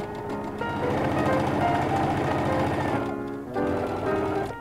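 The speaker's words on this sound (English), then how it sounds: "on this side, we're going to sew all the way down our lining." A sewing machine runs a continuous stitching line down a bag's lining, with a fast, even mechanical chatter that is close and loud. It slows briefly near the end, then starts up again.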